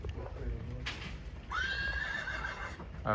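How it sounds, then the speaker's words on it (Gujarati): A horse at a cow shelter in Junagadh whinnies loudly and close, a drawn-out neigh rising then falling over about a second and a half, with faint background movement before it. "ઘોડો"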